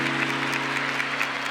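An audience at a Catholic talk claps in a steady, moderate patter with a low constant hum beneath it, no voices heard.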